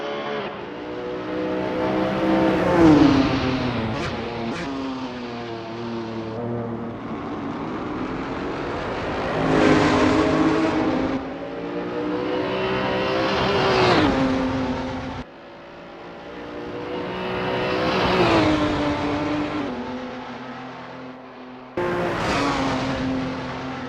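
A GT3 race car engine at Bathurst in Assetto Corsa on a relaxed out lap: a sustained, high engine note climbing through the gears in repeated rising sweeps, cut by gear changes and lifts, loud and close throughout.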